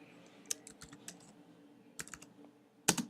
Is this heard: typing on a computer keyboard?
yes